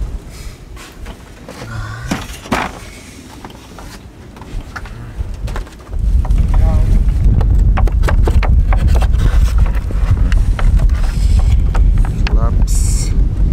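Strong wind buffets an outdoor microphone at a model aircraft flying field, starting as lighter gusts under talk, then becoming a loud, constant low roar for the second half.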